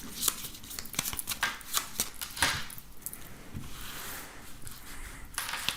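Tarot cards are shuffled and drawn by hand: soft, close papery flicks, taps and slides in an irregular rhythm, quiet and without any talk.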